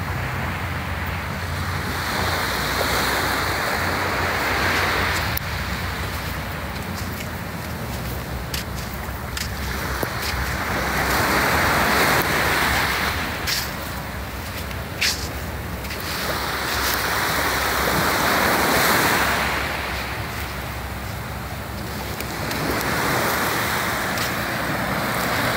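Waves roll in and break on a beach in slow cycles, each rising to a broad rushing wash and fading back, continuous and fairly close with light wind and no talk.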